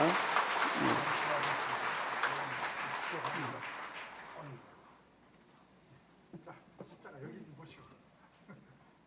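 Applause from a church congregation honoring a newly appointed elder with a plaque fills the first half, then fades out, leaving quiet room noise and a few scattered sounds.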